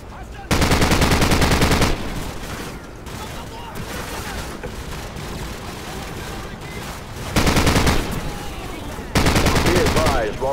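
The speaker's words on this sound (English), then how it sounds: "Jackson, use their machine gun" A mounted machine gun fires in the video game Call of Duty: Modern Warfare, in loud sustained bursts at the start, near the middle and at the end, with quieter battle noise and speech between them.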